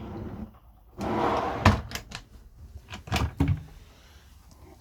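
Drawers and cupboard doors in a camper van are pulled open and pushed shut several times, giving sharp knocks and sliding rattles spaced irregularly across a few seconds, close and fairly loud.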